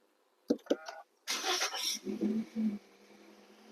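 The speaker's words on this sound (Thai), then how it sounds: "มาเหยียบเบรกแล้วก็สตาร์ทกันเลย" A 2019-20 Toyota Yaris Ativ 1.2 petrol hatch starts up: a couple of soft clicks, then the starter whirs briefly and the small engine catches and settles into a quiet idle, close by.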